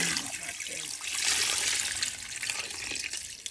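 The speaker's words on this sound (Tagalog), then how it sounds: "Tapos lalagay na tayo dyan ng tubig guys." Water pours steadily into a cooking pot for pork hock stew with papaya and moringa leaves, making a continuous rushing splash with no pauses or voices.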